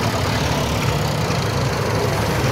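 Tractors idle together at a tractor parade in São Sebastião do Rio Verde, producing a continuous, loud, rumbling engine drone close by.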